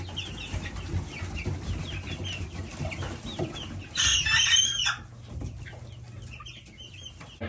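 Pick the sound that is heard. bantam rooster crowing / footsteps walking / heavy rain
bantam rooster crowing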